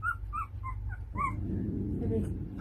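A dog whimpers in a series of short, high, whining cries, then a person speaks over a lower, muffled background as the whines fade.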